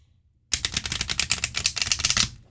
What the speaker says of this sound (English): I am going to split it and riffle the halves anyway